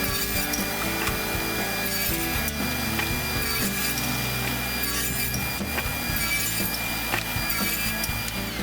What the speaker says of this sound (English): I'll cut all the miters on one side of each board first